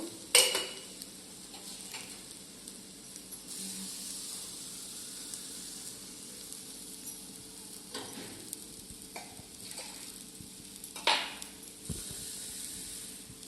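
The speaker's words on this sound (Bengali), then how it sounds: "একদম সুন্দর আমি নাড়াতে পারছি" Fish curry being stirred in a pan with almost no oil, the spatula scraping in a steady low rustle over a faint sizzle, with a few sharper clinks of utensil against the pan.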